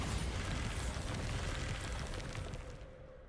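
A Bombarda blast in Hogwarts Legacy: a loud, rumbling explosion that bursts at once and then crackles and fades over a few seconds, with debris-like patter trailing off.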